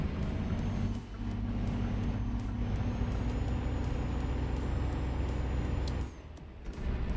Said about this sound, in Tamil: சவுண்டு நீங்கள் கேட்டிங்கனாலே தெரியும் ரொம்ப ரஃப்பாக இருக்குது வெஹிக்கிளோட சவுண்டு